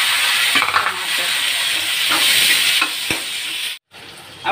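Masala frying in a pan for a spiced brinjal (baingan) curry, a steady sizzling hiss with occasional stirring scrapes, close and continuous, cutting off briefly near the end.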